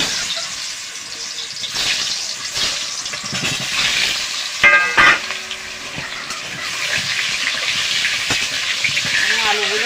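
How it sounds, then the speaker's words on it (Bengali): Turmeric- and salt-coated potatoes fry in hot oil for chicken biryani, giving a steady, close hiss and crackle that runs the whole time, with a few brief voice-like sounds partway through. "তেলটা গরম হয়ে গেছে। এবার আমি আলুগুলো ভেজে নেব।"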